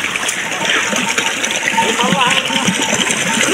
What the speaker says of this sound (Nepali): कुलोमा पानी यसरी आएको हुन्छ हैन